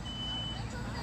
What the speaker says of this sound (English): So the smoke detector is going off now. It's giving you guys some early warning.